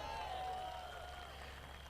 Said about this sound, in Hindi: एक जोरदार तालियां उनके लिए